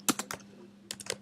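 Several quick keystrokes on a computer keyboard while entering a pupil record into a school database, falling in two short bursts of clicks with a low steady hum beneath and a pause between them.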